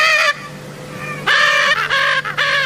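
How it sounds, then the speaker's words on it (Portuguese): A flock of Lear's macaws in the Bahia backcountry gives loud, harsh honking calls, several strong bursts close by with short pauses between them. "As araras azuis de Lear chegam em bando e anunciando num canto alto e forte a procura por alimentos"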